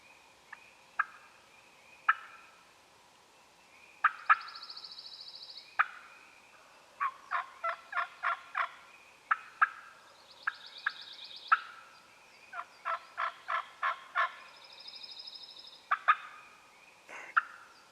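Wild turkeys gobble on public land in Kentucky, repeated rattling gobbles in bursts of several calls, fairly distant and clear over a quiet background with no talk.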